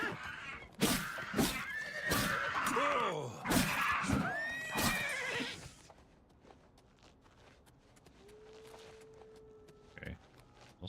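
A horse in the video game Oblivion Remastered neighs in several loud, shrill whinnies with shuffling hoof steps, then settles into quieter clopping and faint ambience with a brief low tone near the end.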